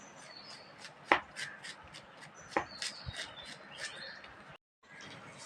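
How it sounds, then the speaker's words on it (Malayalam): Jackfruit leaves being finely chopped with a knife for a Kerala thoran, heard as a few sharp cutting knocks over a steady background of birdsong and chirping. "അതുപോലെ ചെറുതായിട്ട് കുരുവരുന്ന് അരിയണം."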